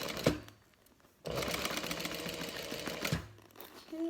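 A sewing machine back-stitches a bag with a sharp click, then a short pause, then a steady close run of stitching that stops with another click and some quiet handling.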